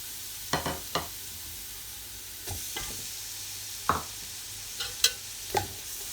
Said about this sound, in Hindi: अब हम इससे सबको अच्छी तरह से मिक्स कर लेते हैं।